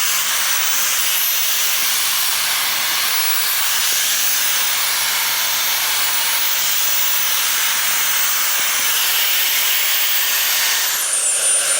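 Fanttik BF10 Pro cordless blower running on its high setting with the nozzle removed, a loud constant airy hiss that holds steady throughout, with no talk.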